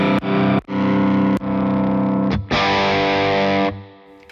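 Heavily distorted electric guitar through a Hughes & Kettner Black Spirit 200 floor amp, sustained chords with short breaks, loud and close, the last one fading out.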